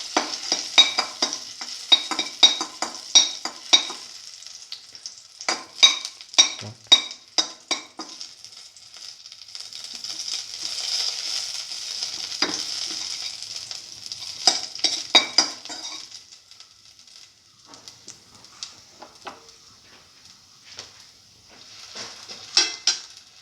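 Cardamom pieces sizzling in a hot pan while a utensil stirs them, with steady frying hiss and repeated scraping clicks of the stirring, close and fairly quiet, with no talking.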